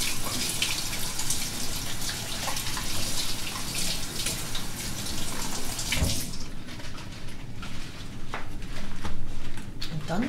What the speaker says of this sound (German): den waschen wir mit kaltem Wasser einfach